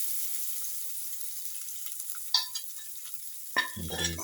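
Cashews and raisins sizzle in a hot pan with crushed cardamom pods and salt, a steady frying hiss broken by a couple of sharp scraping stirs near the end.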